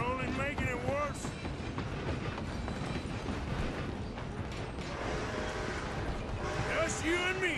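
A moving train in Red Dead Redemption 2 rolls steadily throughout, a continuous mechanical rumble with creaking and clattering of the cars, while voices talk over it.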